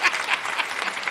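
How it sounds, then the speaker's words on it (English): Audience clapping during an interview show, a dense and fairly loud patter of many hands that keeps up without a break for the whole moment, with no voices over it. "Round of applause for the Make-A-Wish MVP"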